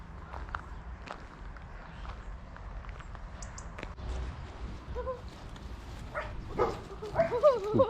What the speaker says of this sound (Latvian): Reku suņi.